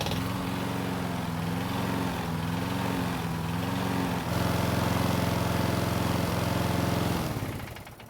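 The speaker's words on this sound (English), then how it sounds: "I'm going to prime the engine again, and more than likely, it's going to start this time" A primed Toro lawn mower engine with a carburettor problem runs steadily close by, its chugging drone shifting pitch and getting louder partway through before cutting out near the end.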